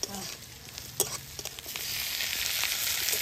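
Tomatoes dropped into a pan of frying onions for a Puri-style fish turmeric curry, giving a steady close sizzle with a few sharp crackles and stirring scrapes.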